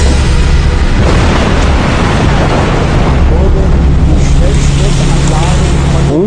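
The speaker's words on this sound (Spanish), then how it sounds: "Un torpedo impactó el casco." Torpedo striking a ship's hull at sea, a loud, dense roaring rumble of blast and churning water that stays heavy and steady throughout, with a voice partly mixed beneath it.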